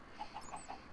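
Soft, clipped clucks from chickens in the video game Minecraft Sky Factory 3, four quick tonal blips in a short burst, faint and alone.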